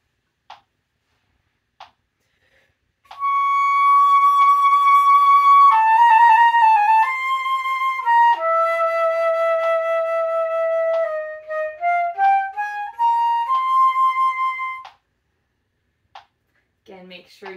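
Band instrument playing measures 21 and 22 of a middle school etude, with a trill and grace notes: a sustained clear melodic line with a rapid wavering trill passage, preceded and followed by soft taps.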